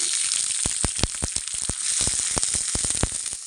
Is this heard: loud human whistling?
no